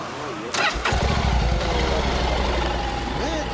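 A Honda NM4 motorcycle's engine cranks and catches with a sharp burst, then settles into a steady, close idle that rumbles on for a few seconds.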